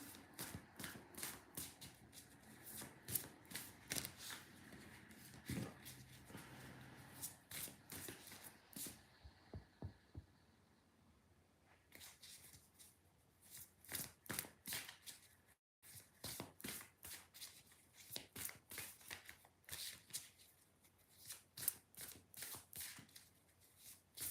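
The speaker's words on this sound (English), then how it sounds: "I'm just trying to put the cards back in." A deck of cards is handled, shuffled and slid back together during a live tarot-style session. The close, sharp riffles and flicks come in rapid bursts, with a quieter pause partway through and no talking.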